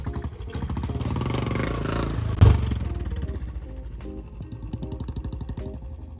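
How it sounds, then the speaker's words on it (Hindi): A Royal Enfield Bullet 350 with a modified, changed silencer revs up close, its thumping single-cylinder exhaust rising to a peak and then settling back into a loud, pulsing idle. "आपको मैं दिखाता हूँ इसका पिकअप कैसा है।"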